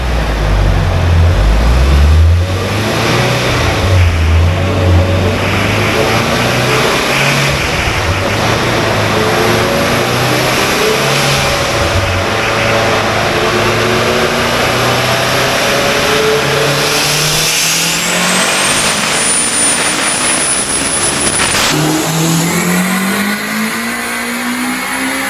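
A stock Honda K20 engine, turbocharged and on 93 octane with the stock fuel system, roars through a dyno pull. It revs up loudly and continuously, climbs to a high whine, then cuts back to a lower note near the end.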